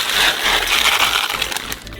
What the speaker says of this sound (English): So pour 1 kilogram of buckwheat into a saucepan